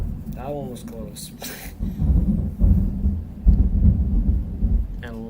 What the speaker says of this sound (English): There's Thunder again, or Lightning.